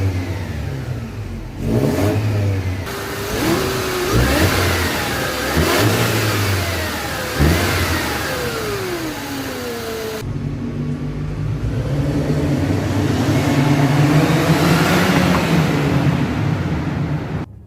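A Mercedes W204 C200 Kompressor's supercharged engine, fitted with an air filter, is revved repeatedly from idle in several sharp rising and falling bursts, followed by a longer steady higher-revving stretch, heard close and loud.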